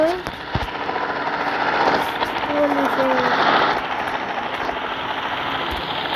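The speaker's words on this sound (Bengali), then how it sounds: "হেলিকপ্টার গাইজ পুলিশের" A police helicopter in a motorbike video game thrums with a loud, continuous rotor chop and engine roar that swells and fades slightly over several seconds.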